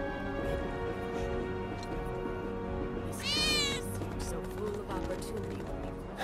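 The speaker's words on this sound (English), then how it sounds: "I think one of Benny's cats might be nearby" Cat meows from the Final Fantasy VII Remake game, a rising-falling meow around the middle over steady background music and ambient game sound, with faint voices.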